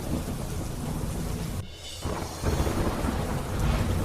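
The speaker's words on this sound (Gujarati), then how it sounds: "ભાવનગરમાં મેઘરાજાએ ધડબડાટી બોલાવી અનેક વિસ્તારમાં ભારે પવન સાથે પડ્યો ધોધમાર વરસાદ" Heavy monsoon rain pours steadily in Gujarat with strong wind and rumbling thunder, a dense continuous roar that dips briefly before surging back.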